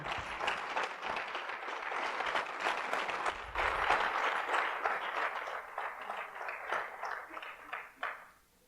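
Church congregation applauding during a Spanish-language sermon, dense sustained clapping that swells, holds for several seconds, then tapers off near the end.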